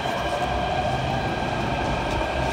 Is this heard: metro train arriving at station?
yes